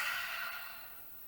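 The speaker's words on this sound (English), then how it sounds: "Just going to take a couple of breaths, just filling up those ribs." Deep, slow breathing during a side stretch in a floor stretching routine, a soft airy exhale fading gradually over about a second, close and quiet with no talk.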